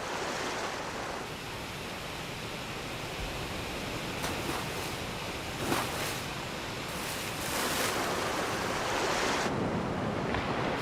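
Rushing waterfalls on the river at the 4,000 Islands make a steady, loud, broadband roar that holds without a break throughout and swells slightly toward the end. No voices are heard.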